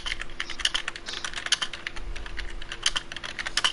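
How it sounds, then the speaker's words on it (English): Rapid, uneven keystrokes on a computer keyboard clatter steadily and close by, with no voices over the tapping. "I'm just typing something"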